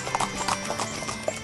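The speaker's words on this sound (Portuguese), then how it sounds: "O engenheiro agrônomo Ernesto Siqueira saiu lá do Rio de Janeiro para conhecer a Mantiqueira a cavalo" Horse hooves clip-clop steadily on a group trail ride through the Mantiqueira mountains, the footfalls near and loud over a dense, noisy outdoor background.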